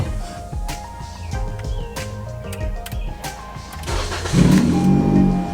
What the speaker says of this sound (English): let's see if the push to start button works.